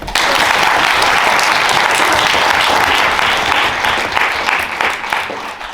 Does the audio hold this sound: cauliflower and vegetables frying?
no